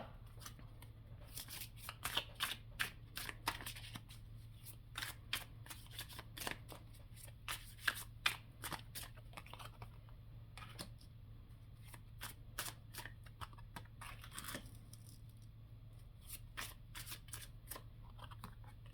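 Tarot cards shuffled by hand in a quiet room, a long run of crisp riffling and slapping bursts in uneven rhythm, close and fairly soft.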